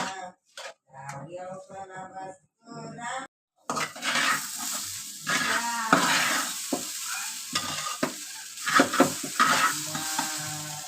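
Rice fries in a pan for a village-style rice biryani, with steady stirring and sizzling that runs close and fairly loud after a few brief tonal, voice-like sounds at the start.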